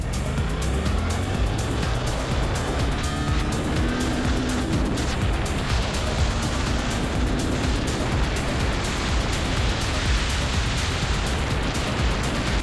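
A Suzuki GSX-8S motorcycle accelerates hard in A riding mode, the engine note climbing as it pulls, mixed with heavy rushing wind noise throughout.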